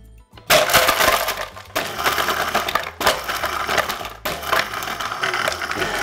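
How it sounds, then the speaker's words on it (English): A high-performance blender with Japanese steel blades grinding and crushing ice cubes, loud and close, with harsh cracking bursts that pause briefly and start again. "large Japanese steel blades, which can handle the toughest of jobs, including ice crushing"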